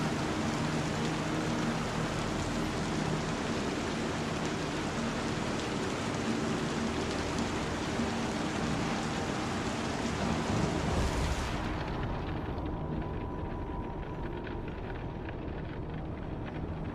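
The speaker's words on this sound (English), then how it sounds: "It's raining so loud." Loud, steady rain hiss in the video game Star Citizen, dense and continuous for most of the stretch before abruptly dropping to a quieter, duller wash.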